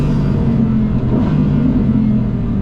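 Audi R8 GT engine revving hard toward its high rpm limit, a loud, steady, close engine roar with strong low harmonics and no pauses.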